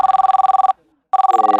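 A telephone rings loud and close in two bursts of rapid trilling separated by a short pause, with no voices over it.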